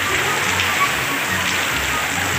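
Heavy rain pouring down outdoors, a steady dense hiss of drops striking surfaces, loud and unbroken for the whole stretch, with no voices standing out.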